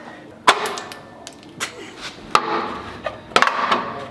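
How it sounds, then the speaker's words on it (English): A tool prying plastic bumper tabs off a new Ford Bronco, giving sharp clacks and snaps spaced a second or so apart with scraping in between, close and fairly loud, no talk. "the first thing we're gonna do is we actually pull these tabs off"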